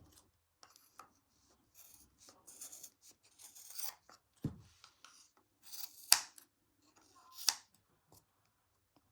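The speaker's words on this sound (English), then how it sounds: "we can trim our tassel" Scissors trim a yarn pom-pom tassel: a handful of crisp snips, the clearest near the middle and end, between quiet rustling and rubbing of fibres, with no speech.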